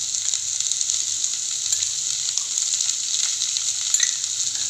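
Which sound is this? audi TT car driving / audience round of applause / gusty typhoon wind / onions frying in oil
onions frying in oil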